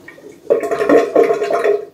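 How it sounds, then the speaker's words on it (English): Water drains through a newly fitted bathroom basin waste, starting with a sudden gush and continuing as a steady gurgling flow, close by with no talk. "And release the water."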